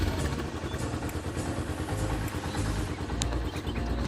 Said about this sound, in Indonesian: jadi kita menyalakan mesin motor, dimana ketika mesin motor menyala itu akan melakukan gerak siklus pada motor bakar 4 langkah di Jupiter MX ini.